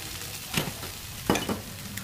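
Vegetables stir-fry in a pan, giving a steady, moderate sizzle broken by a couple of brief scraping stirs, with no talking.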